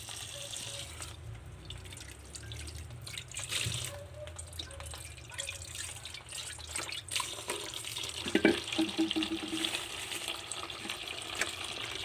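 Banana blossom rinsed under a running kitchen tap, a steady stream of water splashing into a sink with small trickles and drips, close and fairly quiet, no talking.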